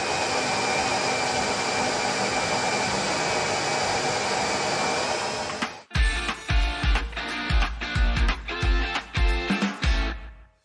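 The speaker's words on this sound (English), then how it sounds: "make sure to keep your drill straight up and down" Power drill boring holes into a kitchen countertop while installing an undermount sink: a steady high whine for about six seconds, then a series of short, sharp drilling bursts with pauses between them, close and loud.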